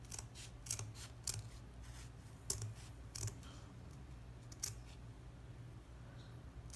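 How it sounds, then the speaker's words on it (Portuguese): Scissors that are not very sharp snip through a ribbon in a series of short, crisp, quiet cuts, irregularly spaced and alone against a faint background hum. "tem que ser uma tesoura aí boa"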